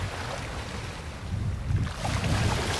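Ocean waves wash in a steady low rumble with wind, swelling slightly toward the end rather than clearly fading, heard alone without voices.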